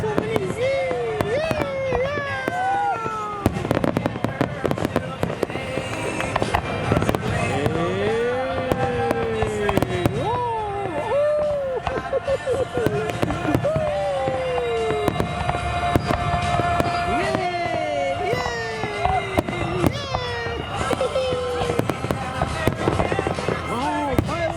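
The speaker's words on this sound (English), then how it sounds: "Fireworks!" Fourth of July fireworks show in Duluth, Minnesota, with a steady run of bangs, crackles and whistling rising shells over the whole stretch, as excited voices and crowd chatter carry on throughout.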